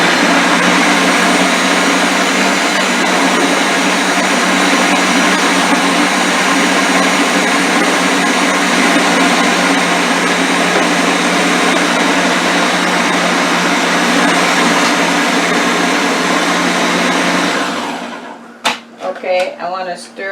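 A kitchen stand mixer whips potatoes and milk for a chicken shepherd's pie, giving a loud, steady motor whir that runs unbroken for about eighteen seconds before cutting out into a few clunks.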